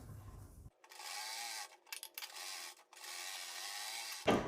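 A sewing machine stitches fabric around a kurti boat neck, running steadily in close, even bursts with a couple of short stops along the seam.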